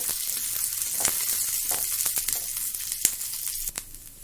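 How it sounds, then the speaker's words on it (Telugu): Curry leaves crisping in hot oil for hotel-style peanut chutney give a steady bright sizzle with scattered sharp crackles and pops, heard close and alone. "కరివేపాకు కాస్త క్రిస్పీ అయ్యేంత వరకు వేయించుకుందాం, ఒక 2 minutes"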